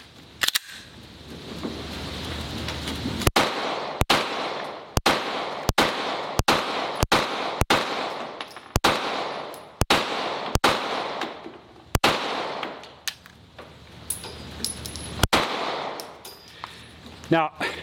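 A Springfield Armory Echelon pistol fires at an outdoor range, about fifteen sharp, loud single shots in quick, fairly even succession over a steady background of wind or ambient noise.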